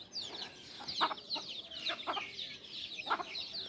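Broiler chickens at a wholesale poultry market cluck and cackle repeatedly in overlapping bursts, fairly close and busy, over a low murmur of background noise.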